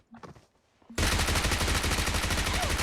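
Rapid automatic gunfire in a battle royale video game bursts in after a quiet second of faint rustling, then continues loud and close as a dense, sustained stream of shots with no talking.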